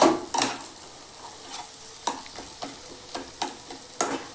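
Beaten egg being stirred with pumpkin in a pan over high flame, a soft sizzle underneath a string of sharp scraping strokes spaced roughly every half second, close and fairly quiet, no voices.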